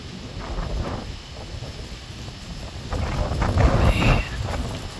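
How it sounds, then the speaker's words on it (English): Strong storm wind rolls through Sheridan, Arkansas, rumbling and buffeting the microphone in uneven gusts that build louder toward the middle and then ease. No one speaks. "Man, it is getting windy."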